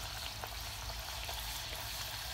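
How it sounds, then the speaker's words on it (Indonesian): Puri dough for pani puri frying in hot oil, a steady close sizzle and crackle with faint popping throughout, no talk. "Ini purinya sedang kita goreng"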